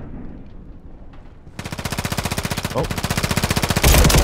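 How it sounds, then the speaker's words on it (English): Rapid SMG fire in a first-person shooter match rattles in a fast, even stream of close, loud shots that grows heavier toward the end, with a player briefly exclaiming over it. "get gunned by an SMG"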